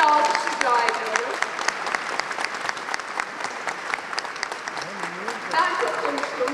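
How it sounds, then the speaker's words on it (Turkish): Audience applause for the artist Devrim Erbil, a sustained wash of many hands clapping at moderate level, with a few voices calling out over it. "Devrim Erbil için de çok güçlü bir alkış rica ediyorum."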